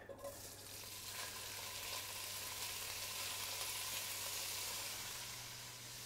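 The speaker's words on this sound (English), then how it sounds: "We're going to use that to fry the mushrooms in, which will be fantastic." Mushrooms sizzling and frying steadily in hot rendered bacon fat in a pan, a continuous close crackle for the whole stretch with occasional stirring, no talk over it.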